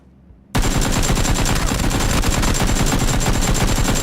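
After a brief quiet start, a PlayerUnknown's Battlegrounds automatic weapon opens up into a loud, rapid, sustained burst of close gunfire with a steady rattling rhythm.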